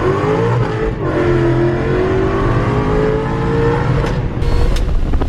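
A high-horsepower car pulls hard through the gears, its engine note rising steadily with a brief break at a shift, loud and close throughout with no talk.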